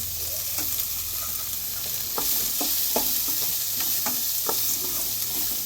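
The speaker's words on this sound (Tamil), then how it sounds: "எல்லாத்தையும் நல்லா வதக்கிப்போம்" Curry leaves, asafoetida, onion and green chilli sizzle steadily in hot oil in a pan during a village cooking session, with soft scraping stirs from a spoon over the continuous close frying hiss.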